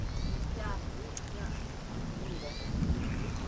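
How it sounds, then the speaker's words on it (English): Light rain falls outdoors at a rough pioneer homestead, a dense, steady hiss and patter that fills the background while people talk over it. "A little bit of rain now."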